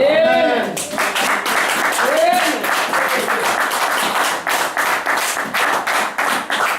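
A church congregation cheering with voices and cries at first, then settling into rhythmic clapping that builds in a steady beat.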